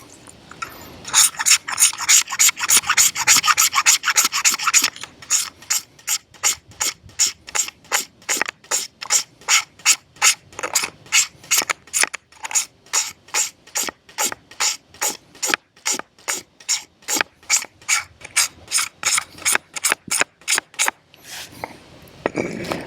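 A magnesium fire starter bar is scraped with a blade in repeated rhythmic strokes, first a fast rasping flurry, then dozens of evenly spaced, sharp scraping pulses that are loud and close, continuing without any talk.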